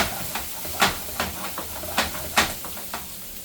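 Cheesesteak filling sizzles in a hot pan under a steady hiss while a utensil stirs it, with several sharp scraping knocks spaced through the mix, close and moderately loud.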